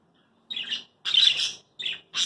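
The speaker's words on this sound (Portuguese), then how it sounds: "Temos 12 periquitos australianos e dois canários." Budgerigar chicks give raspy, squawking chirps in three or four short bursts, close and fairly loud, with brief silences between calls.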